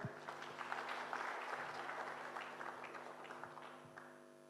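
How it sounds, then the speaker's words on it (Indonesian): Attendees at an official government event on strengthening integrity zones clap warmly, a moderately distant, steady round of applause that gradually thins out over a few seconds, with a low hum underneath. "Buat tepuk tangan yang meriah Bapak Ibu."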